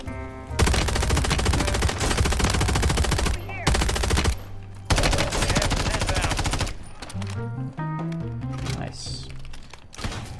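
Rapid automatic gunfire from Call of Duty Warzone on Rebirth Island, loud bursts and sustained rattling volleys with short gaps, followed by scattered quieter shots and game sounds.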